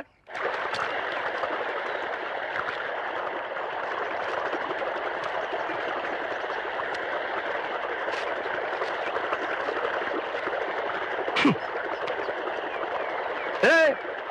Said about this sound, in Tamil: இவ்வளவு தண்ணி போகுது